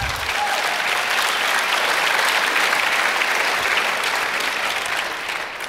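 A crowd at a Reagan forum applauds through a political monologue, producing a dense, even roar of clapping that stays strong for several seconds and fades slightly at the end.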